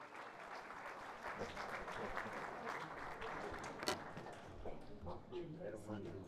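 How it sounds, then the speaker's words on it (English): A seated audience applauds the administration and council members who served lunch at a 2024 State of the City address, a steady, faint wash of clapping lasting several seconds. "how about a round of applause to the administration and council members for serving your lunch?"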